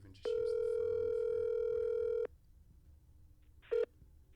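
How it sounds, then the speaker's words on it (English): A phone call begins with a steady dial tone lasting about two seconds, then a short single keypad beep follows after a pause, close and clear in a quiet room. "I'll just call John on my phone and put him on here"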